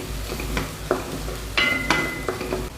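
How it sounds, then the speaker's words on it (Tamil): Carrots sautéing in a pan for carrot rice, a soft steady sizzle broken by clinks and scrapes of a spoon stirring against metal, with a few ringing taps, no talking. "கேரட் வதங்கிடுச்சு"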